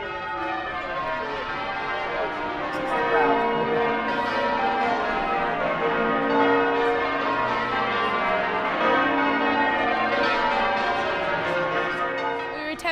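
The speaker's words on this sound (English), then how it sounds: "the cathedral's bells started ringing" Cathedral church bells peal continuously in overlapping, ringing tones through the open air during a protest camp's morning meeting, loud and sustained without pause.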